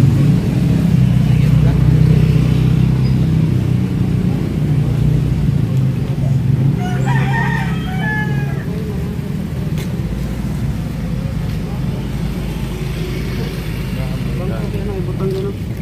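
A motorcycle engine runs steadily with a low rumble throughout, while people talk over it nearby.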